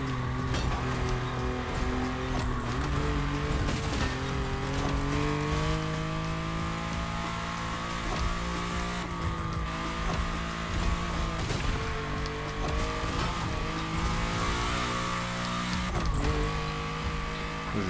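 A car engine drones steadily throughout a race in the TCM driving game, a continuous loud hum whose pitch slides up and down as the car shifts gears and accelerates, with a faint tire hiss.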